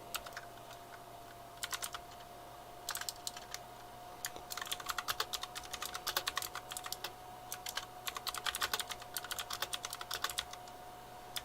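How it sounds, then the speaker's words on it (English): Rapid computer-keyboard typing in quick bursts with pauses, close and fairly quiet, over a steady faint hum, with no voices. "Please excuse the typing."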